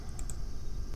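A computer keyboard shortcut being pressed, a few crisp close clicks over a steady background hiss, with no talking.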